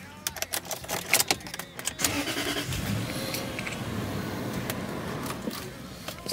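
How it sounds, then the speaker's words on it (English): A Land Rover LR3 starts up: a few clicks and chimes, then the starter cranks and the engine catches into a steady close idle rumble. "Okay, so I'm gonna start the car."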